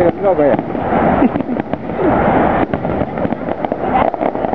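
Fireworks burst and crackle in a rapid series of sharp pops during a Victoria Day display outdoors, loud and close, with people talking and calling out over the bangs.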